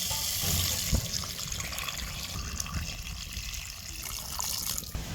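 Lukewarm water poured into a pan of drumstick pods cooking in oil and turmeric, a continuous splashing, gurgling pour up close with a few knocks, no speech.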